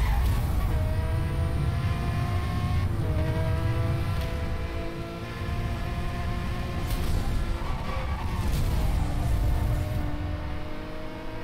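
A Pagani Zonda race car in Need for Speed Hot Pursuit, its engine roaring loud and steady with rising and falling revs, gear changes and occasional tire squeal.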